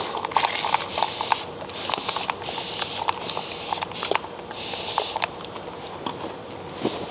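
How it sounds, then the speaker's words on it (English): Isopropyl alcohol sprayed in repeated hissing bursts over a motorbike brake caliper during a brake install on a Sur-Ron, close and continuous with small mechanical clicks between squirts. "This is isopropyl alcohol, and I'm just gonna douse this whole thing."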